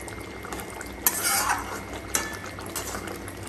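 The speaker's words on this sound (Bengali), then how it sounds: "এবার নাড়িয়ে নেওয়া হচ্ছে ভালোভাবে" Bengali chitol fish curry gets stirred in a pan with ghee and garam masala, giving soft scraping and clinking of a utensil against metal and a light sizzle, with a few sharper knocks, near and moderately quiet.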